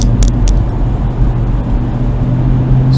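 A car enters the Squirrel Hill Tunnel in morning traffic, giving a loud, steady engine and road roar with a deep rumble, heard from inside the car with no talking.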